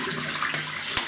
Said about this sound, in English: let me have a quick rinse.